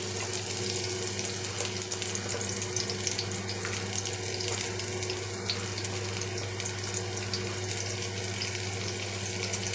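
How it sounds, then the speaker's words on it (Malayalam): Garlic sizzling in hot coconut oil in a pan before prawns are fried, a steady, dense hiss that runs evenly and fairly loud throughout, with no talking. "അപ്പോൾ അതിലേക്ക് നമുക്ക് ആദ്യം വെളുത്തുള്ളി ഇട്ട് കൊടുക്കാം"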